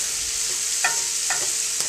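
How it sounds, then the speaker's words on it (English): Red peppers, onion and mushrooms sauteing in a pan for an omelette give a bright, steady sizzle close up, broken by three or four short clinks of a utensil stirring the vegetables. "So, I'm just sauteing it for a little while"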